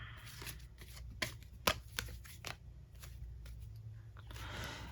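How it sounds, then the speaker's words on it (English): Tarot cards shuffled and drawn in a quiet room, giving several sharp riffle-like snaps and soft rustles over a low steady hum, fairly close and moderately quiet. "Let's pull more cards and see what else we could get."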